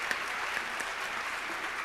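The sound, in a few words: congregation applauding in church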